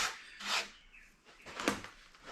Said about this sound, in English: I'll clean up a bit of sand around here